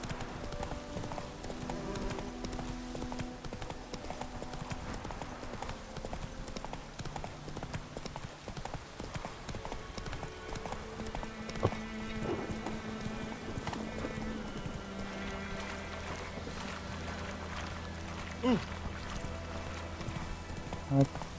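Hooves of the horse Roach clip-clop steadily at a trot through The Witcher 3 over game music, with a brief whinny and a man calling to the horse now and then.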